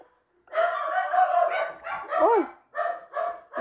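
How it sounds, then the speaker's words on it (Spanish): Dogs bark nearby in a quick series of sharp, loud barks with a short yelp in the middle, clear and close with no voices. "¡Uy! Los perros están ladrando."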